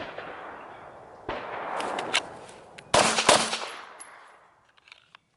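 Revolver fired at a target, with sharp, loud, echoing reports in quick succession from close range and no talking.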